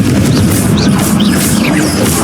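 A Confringo blasting curse going off in Hogwarts Legacy, a loud, steady burst of roaring noise with whooshing sparkly swirls over a deep rumble, alone with no talk.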